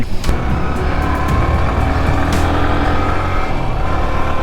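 A Yamaha FZ version 3 motorcycle engine drones loudly and steadily while riding, a continuous close roar with faint road noise and a few brief clicks.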